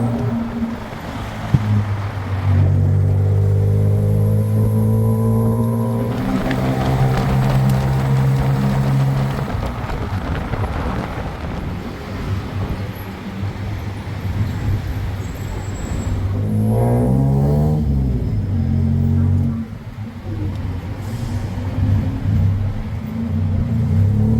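Late-night road traffic in Bangkok: a steady engine drone with vehicles passing by, their pitch rising and falling as they go, without anyone speaking.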